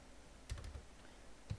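Two short keystroke bursts on a computer keyboard entering an IP address for a Cisco Packet Tracer network setup, one quick cluster of taps then a single tap about a second later, close and fairly quiet.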